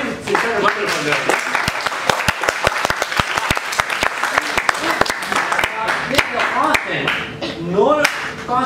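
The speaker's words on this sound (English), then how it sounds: "Clapping is wonderful." Students in a calculus recitation classroom clap with sharp, uneven, close hand claps that continue for several seconds. A voice speaks over much of the clapping.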